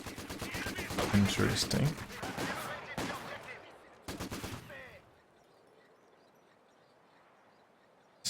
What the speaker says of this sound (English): So it looks like Burmie investing in a second machine gun.